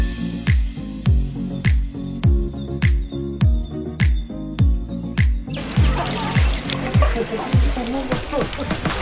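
Water trickles and splashes at a Japanese shrine fountain in Kamakura, with regular, close, dripping pulses that merge into a steadier splashing flow. Birds chirp faintly in the background.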